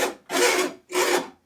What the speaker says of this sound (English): What are you sawing?